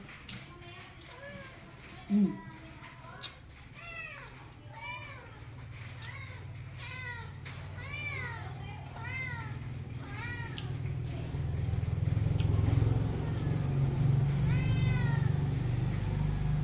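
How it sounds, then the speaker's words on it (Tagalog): Pet cats meow again and again in short, rising and falling cries that often overlap, close by. Nearby voices and household noise sit beneath them, swelling toward the end. "nagawal din mga alaga ng pusa"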